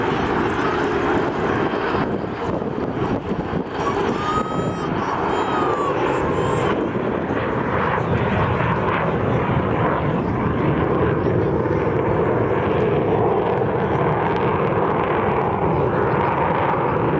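An Avro Vulcan bomber flies over the Scottish Airshow at Low Green, Ayr, its jet roar a broad, sustained rumble that swells and fades, with wind buffeting the microphone and a commentator speaking over it.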